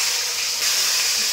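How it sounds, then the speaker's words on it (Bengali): Rohu fish sizzling as it fries in a pan, a steady close hiss with a brief surge partway through, with no talk over it. "তো এবারে হচ্ছে মাছ ভাজা হবে"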